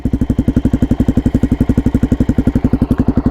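A Suzuki DRZ400 single-cylinder motorcycle with an aftermarket exhaust idles loud and close, each firing pulse a rapid, even thump in a steady chugging rhythm.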